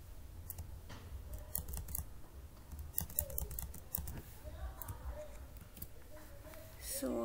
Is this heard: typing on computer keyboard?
yes